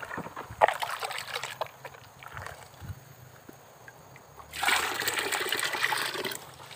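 JADAM microbial solution is stirred into water, irregular sloshing and trickling at first, then a louder continuous churning swirl in the last couple of seconds, close and alone.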